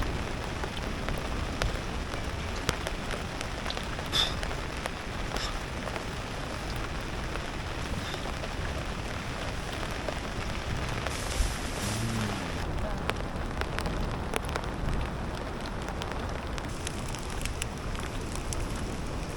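Rain falls steadily on a rocky fishing spot in Gunung Kidul, Yogyakarta, making a continuous, even patter with occasional louder drops throughout.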